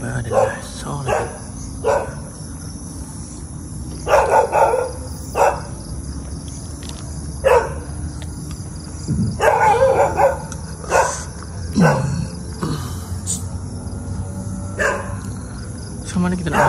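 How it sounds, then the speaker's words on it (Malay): A dog barking repeatedly in short bursts outdoors, fairly close, with steady insect chirping in the background and people speaking between the barks. "Kenapa anjing ni tak chill lah?"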